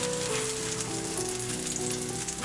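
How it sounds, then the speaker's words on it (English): Oil sizzles steadily in a pan under a Korean green onion pancake, a constant crackling hiss close by with no talking. "Let it sizzle for another 3 minutes."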